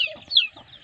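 Native chickens on a small farm give a brief, high-pitched call and a quick cluck, close and fairly clear, with nothing else around them.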